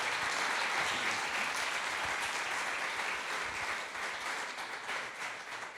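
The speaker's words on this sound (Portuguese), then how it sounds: "Pode dar mais um aplauso ao Senhor antes de você se assentar" Audience in a church giving sustained, dense applause, loud and even at first, then thinning slightly toward the end, with no speech over it.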